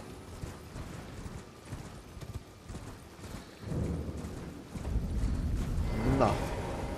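Horse hooves clip-clop in the video game Elden Ring, a steady rhythmic trot that grows louder and denser partway through, with mechanical clatter and a bright tonal chime near the end.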